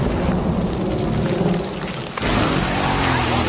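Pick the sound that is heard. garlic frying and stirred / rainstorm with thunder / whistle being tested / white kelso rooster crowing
rainstorm with thunder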